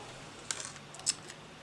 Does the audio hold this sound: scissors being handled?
yes